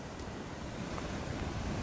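Big ocean waves breaking steadily against a rocky cliff point, a continuous heavy roar of surf mixed with wind rushing across the microphone, with no voices.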